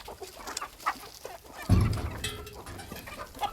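Farmyard chickens cluck in short, scattered bursts close by, with a louder flurry of clucking and scuffling partway through, no voices over it.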